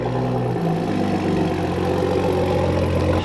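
A 2023 Ford F-150 Raptor with a V6 engine and dual exhaust idles after a remote start, a steady, even low rumble holding at constant level throughout, with no voices.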